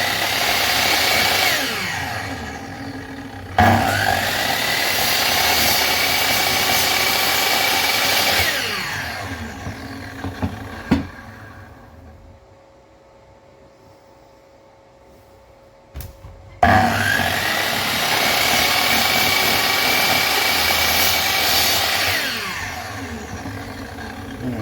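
A power saw cuts wood for a wooden window frame in loud, whining bursts, with a long cut, a quiet pause while the motor spins down, and then a second cut.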